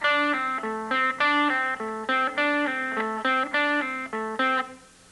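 A repeated electric guitar lick, the same quick run of plucked notes cycling several times, clear and close, then ringing out at the end.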